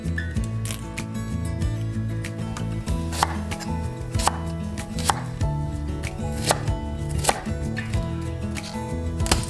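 Knife chopping galangal, Thai ginger root, into quarter-sized pieces for tom yum soup, heard as a steady run of sharp board knocks over background music.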